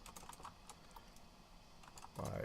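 Fingers tap on a computer keyboard in quick, irregular clicks of varying strength, typing commands into a text adventure game. A short pause falls mid-burst before a denser thump closes the sequence.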